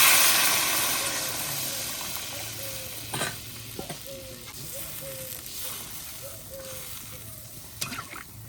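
Water poured into a pan of sautéed yam for a koi fish dish, sending up a broad hiss of sizzling that slowly fades, with a few clinks of a utensil against the pan.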